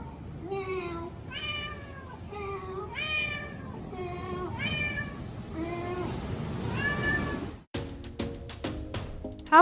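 A cat meows repeatedly in a rhythmic series of clear, fairly close calls, about seven meows, followed by a brief sharper scuffle of sound at the end, in an outdoor setting in East Bali.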